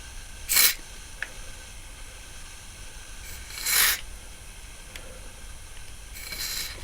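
Three short hissing bursts of an aerosol grease spray can onto a Syma X8HG drone's motors, each about half a second, separated by quiet pauses with a faint click between.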